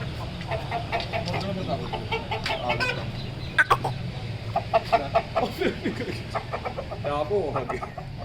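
Aseel chickens cluck repeatedly close by in an outdoor yard, with people talking over and between the clucks.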